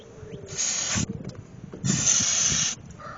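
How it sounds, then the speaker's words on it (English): Two sharp bursts of ether starting fluid hiss from an aerosol can into an engine, each lasting about half a second to a second, with a short pause between them. "Try spraying a little ether in there."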